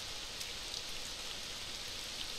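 Steady rain in a video game, a constant soft hiss of falling drops with no breaks, fairly quiet and heard alone.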